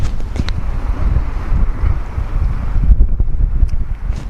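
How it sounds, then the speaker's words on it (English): A strong outdoor wind gust buffets the microphone with continuous low rumbling and roaring, steady and loud throughout with no voices. "A wind gust is coming through."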